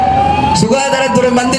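A loud ambulance siren wails with shifting tones close by while someone talks over it.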